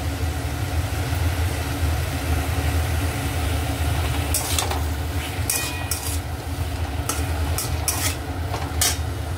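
Beans and eggplant fry in a pan for a home-style curry with lentil dumplings, making a steady, moderate sizzle and hiss with a few sharp scrapes and clicks toward the end.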